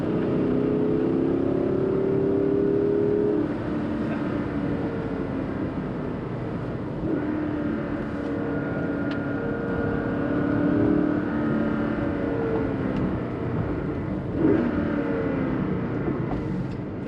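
A Dinan S2 tuned BMW Z8 with a lightweight flywheel is driven on winding roads, its engine droning and revving up and down through gear changes, heard steadily from inside the car with no talking.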